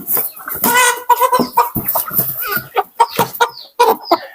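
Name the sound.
Bangkok chicken rooster clucking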